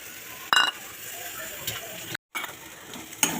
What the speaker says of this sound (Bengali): এবার আমি এটাকে ভালো করে মেশাবো। এই পর্যায়ে আমি যে ডিম আর হচ্ছে চিকেনটা ভেজে রেখেছিলাম সেটা দিয়ে দেবো।